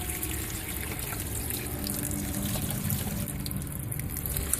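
Water poured onto corroded Honda Pilot car battery terminals makes a soft, continuous trickle and splash, close but faint, with no talking.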